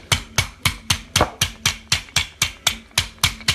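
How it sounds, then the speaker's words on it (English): Meat is pounded flat with a rolling pin in a home kitchen, about fourteen heavy, evenly spaced thuds in quick succession, loud and close with no talking. "Use the rolling pin here to give it some even but forceful pounding here."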